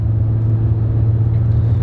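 A 2004 Dodge Intrepid SE with the 2.7L engine and 32k miles cruises along, heard as a steady, close, low droning rumble with little change in pitch.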